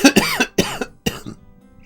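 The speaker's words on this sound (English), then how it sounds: "I'm still coughing" A person coughs three times in quick succession, close and fairly loud, each cough a harsh burst followed by a short raspy tail.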